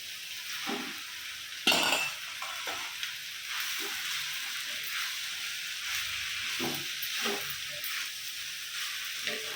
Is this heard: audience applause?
no